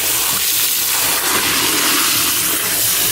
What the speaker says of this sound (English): So just do a really good rinse out